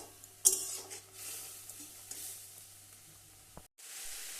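Beans and cabbage sautéing in oil with turmeric, ginger paste, sugar and salt, a faint steady sizzle with a sharp utensil clink early and a few light pan taps, no talk.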